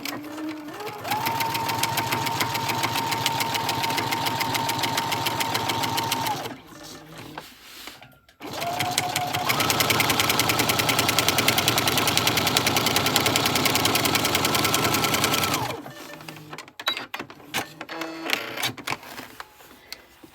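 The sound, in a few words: sewing machine stitching a vinyl pouch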